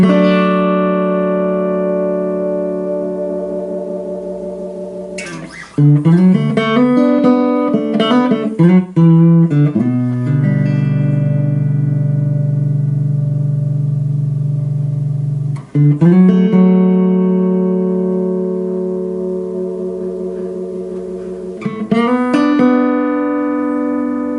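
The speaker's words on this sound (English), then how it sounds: "So you'll hear the vibrato fade in as the sound fades out." A sustained electric guitar chord rings out and slowly decays while a wavering vibrato from a Chase Bliss pedal with envelope follower swells in, with new chords struck a few times along the way.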